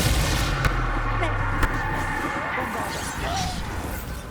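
Confringo blasting curse explosions during Hogwarts Legacy combat: two sharp, loud blasts over a dense rumbling battle din, with a voice partly audible underneath.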